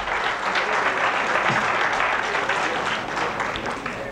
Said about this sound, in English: So can we welcome them on the stage with a huge round of applause